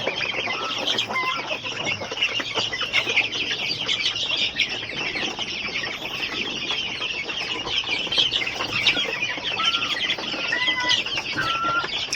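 Chicks crowd a brooding pen during wet feeding, cheeping in a dense, continuous chorus of high peeps with some louder individual calls and occasional wing flutters, no talking.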